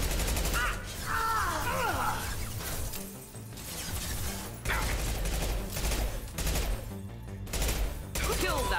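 Gunfire in the sci-fi shooter video game Mass Effect 2: dense, continuous bursts and impacts that run throughout, with voices speaking over the combat.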